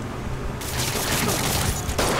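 Gunfire in the game Marvel's Spider-Man on PS4 crackles as a dense, continuous burst of shots over a noisy background, loud and close throughout.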